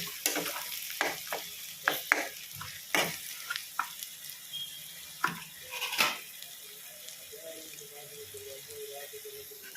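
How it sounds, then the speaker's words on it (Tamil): Onions and green chillies fry in a pan with a steady soft sizzle, broken by intermittent scraping and clinks from stirring, close and moderately quiet. "நல்லா பச்சை மிளகாவும் நல்லா வதங்கிடுச்சு, வெங்காயமும் நல்லா வதங்கிடுச்சு."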